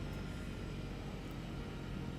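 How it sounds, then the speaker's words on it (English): Turboprop engine of a Black Square Bonanza in Microsoft Flight Simulator 2024 winds down after the fuel is cut, a steady low rumbling drone that stays loud through the short stretch. "The engine is stopping."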